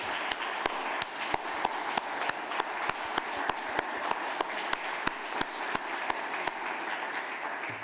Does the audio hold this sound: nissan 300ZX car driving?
no